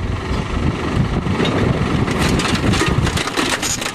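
Heavy equipment crushing a vintage Lawn-Boy lawnmower, a loud continuous engine roar with grinding, crunching texture throughout, close and unbroken.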